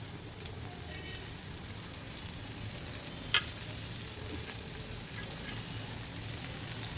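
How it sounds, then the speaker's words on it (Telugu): Fenugreek leaves being stirred into a moong dal curry in a pan, a continuous close sizzle with faint clinks and one sharp utensil tap midway. "ఇప్పుడు వీటన్నిటిని ఒకసారి బాగా కలుపుకోవాలండి"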